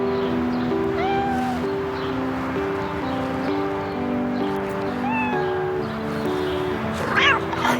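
A small cat meows repeatedly in short rising cries at close range, spaced across the clip over a steady background hum and faint household noise.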